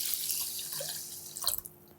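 Chicken broth pours into a pot of rice, a close steady splashing stream that tapers into a few drips near the end.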